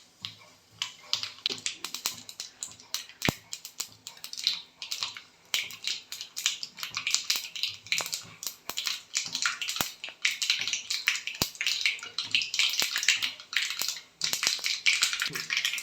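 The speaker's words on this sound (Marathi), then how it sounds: "मोहरी छान तडतडली आहे" Mustard seeds splutter and pop in hot oil in a kadhai while a tempering is made for raw mango pickle. The sound is a dense, irregular run of sharp, close crackles that keeps going steadily, with no talking.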